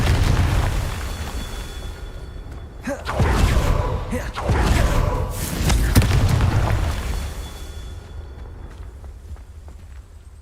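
A Confringo fire spell from the Hogwarts Legacy video game erupts in several booming, crackling blasts, spaced a second or two apart, amid game ambience.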